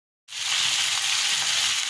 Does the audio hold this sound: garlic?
yes